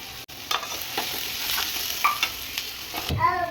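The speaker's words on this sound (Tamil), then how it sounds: "சீனில் சிட்டு கரண்டி எடுத்து கிளறி" A ladle stirs onions frying in oil in a pan, giving a close scraping and sizzling with short scrapes at a quick pace, ending in a louder clatter.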